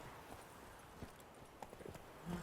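Horse hooves clip-clopping in the video game The Witcher 3: Wild Hunt, a soft, uneven series of hoof strikes heard faintly over quiet ambient background.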